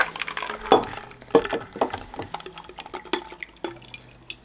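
Red-tinted butterbeer drink poured into a glass, a string of uneven splashes, drips and light glassy clinks, close and fairly quiet.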